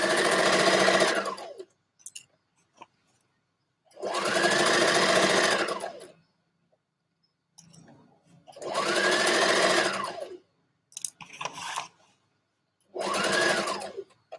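A sewing machine stitches dress fabric in four long, fast whirring runs of about two seconds each, close and clear. Short clicks and taps come between the runs as the fabric is handled.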